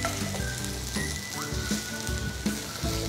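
Potato pieces frying in oil in a pan as they turn brownish, a steady close sizzle with crackling pops and occasional soft stirring knocks, no talk.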